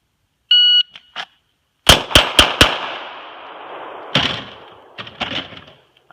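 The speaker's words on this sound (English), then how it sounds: "4 rounds fired" Handgun rounds fired at a target: after a short electronic timer beep, four rapid loud shots in a quick burst, a pause, then a few more scattered cracks with reverberant tails.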